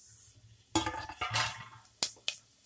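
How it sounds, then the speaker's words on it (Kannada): Whole spices dropped into hot ghee and oil in a pan for avarekalu methi pulao, giving a few brief clinks and scrapes with a light sizzle, followed by two sharp clinks near the end. "ಈಗ ಹೋಲ್ ಸ್ಪೈಸಸ್ ಹಾಕ್ತಾ ಇದ್ದೀನಿ"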